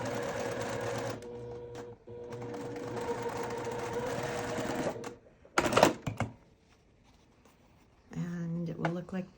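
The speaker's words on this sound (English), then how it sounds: "Still sewing a 1/4 inch seam, couple stitches, hold one piece in each hand." A sewing machine runs a quarter-inch seam in short bursts of steady whirring stitching, stopping and starting, close and fairly loud, with a brief rustle of fabric and a voice speaking near the end.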